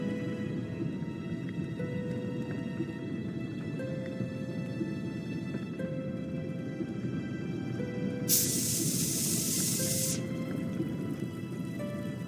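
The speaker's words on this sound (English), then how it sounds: "I dropped the mints into the cola and quickly tightened the cap again." Mints fizzing inside a capped cola bottle in the video game Broken Sword 5, a steady soft hiss under game ambience and music, with a brighter burst of fizz for about two seconds.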